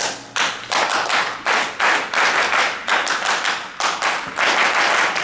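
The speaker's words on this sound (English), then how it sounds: "I want you to follow after me, okay? With claps." An audience at an HCCollege 100 Black Men's event claps along in call-and-response, loud bursts of crisp group claps in short rhythmic patterns separated by brief pauses.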